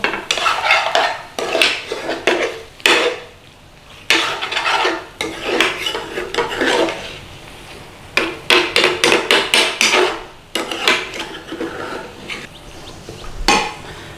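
Metal spoon stirs garam masala into a chicken tikka bhuna in a metal pan, giving loud, repeated clanks and scrapes in bursts with short pauses, under a faint sizzle.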